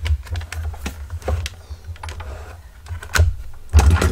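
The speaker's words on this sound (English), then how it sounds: "I'm going to use my Sizzix Big Shot for this one." A Sizzix Big Shot die cutting machine is hand-cranked, giving irregular clicking, clacking bursts and grinding thumps of rollers and plates, loud and close with no voices.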